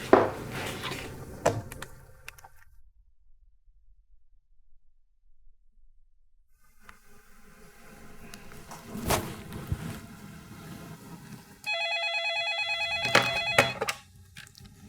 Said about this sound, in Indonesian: Aku coba telepon deh.